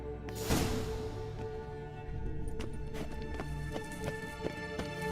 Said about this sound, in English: Horse can apparently gallop like a demon.